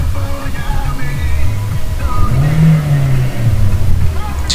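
A Hyundai Elantra Limited, a salvage car now in good running condition, idles with a steady low engine rumble and a brief rise in pitch like a light rev near the middle, recorded close with some background voices.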